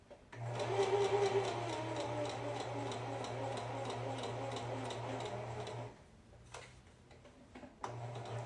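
A sewing machine runs a steady, rapid top-stitching line on a Catalina garment, its even ticking chatter holding for about six seconds before stopping; after a quiet pause, the machine starts up again briefly.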